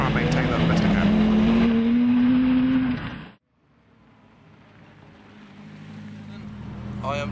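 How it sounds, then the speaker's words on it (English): A Peugeot 205 rally car in the 600 challenge drives past with a loud, rising engine drone that cuts off sharply after about three seconds. Quieter background rumble follows. "I am driving a 205 in the 600 challenge."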